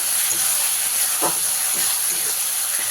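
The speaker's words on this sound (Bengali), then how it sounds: "পরিমাণ মতো লবণ দিয়ে ভালো করে মশলাটাকে আমি কষিয়ে নেব তেল ছাড়া পর্যন্ত" An egg curry masala of tomato and salt sizzles in hot oil as it is sautéed, giving a steady close hiss with faint scraping ticks.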